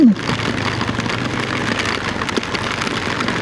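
Heavy rain pours steadily, a dense continuous hiss of drops close by with no voices.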